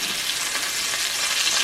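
Steak sizzles hard in a cast iron pan, a dense, steady frying hiss held at an even level throughout with no voices.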